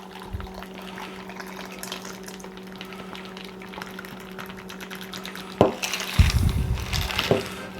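A low steady hum runs until shaken iced espresso suddenly splashes and pours into a glass near the end, briefly loud and bubbly.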